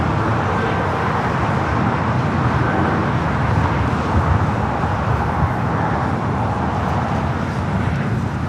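A Breeze Airways Airbus A220-300 jet rolls for takeoff at Los Angeles International Airport, a steady, loud broadband roar with low rumble holding throughout, no voices.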